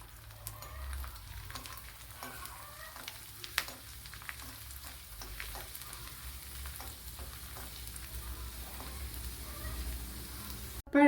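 Cashews and raisins fry steadily in hot ghee with a continuous soft sizzle and bubbling crackle, close and even throughout, ending with a brief louder clatter.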